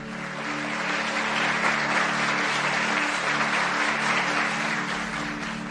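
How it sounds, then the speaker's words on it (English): Audience clapping after a lesson at a Vishuddha chakra sadhana wisdom talk, an even wash of many hands that swells in and holds steady, with a low electrical hum running beneath. "So this second lesson over, can we clap?"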